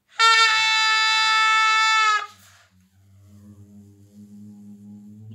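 A zurna played with the player voicing an A vowel gives a loud, bright, sustained reedy tone for about two seconds, then cuts off, leaving faint low hum.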